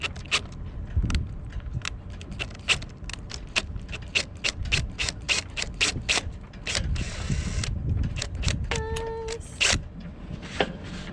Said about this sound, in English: Let me see if I can use the driver a little bit. It's just spinning.